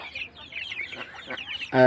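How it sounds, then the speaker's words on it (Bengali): Tiger chickens raised on a poultry farm cluck in quick, overlapping chatter close by, before a louder voice cuts in at the very end. "আর এই পাশে আমার মুরগি টাইগার।"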